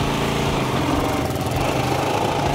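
A new motorbike engine with an automatic choke runs loud and close, holding a steady, rough mechanical drone without pause.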